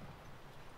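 Horse hooves clip-clop in the video game The Last of Us, a quick, soft run of muffled hoof steps lasting under a second, faint and low in the mix with no talk.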